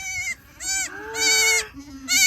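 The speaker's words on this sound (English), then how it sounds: "We have our new baby goat!" A newborn Alpine goat kid bleats close by in a few short, high, wavering cries separated by brief pauses, with no talk.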